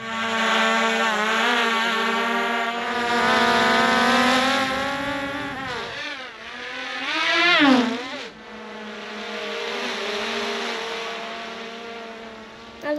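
A DJI drone flies nearby with a steady, high-pitched propeller whine and dense buzzing harmonics. The pitch swoops up and down mid-flight as it speeds up and turns, and no voices are heard.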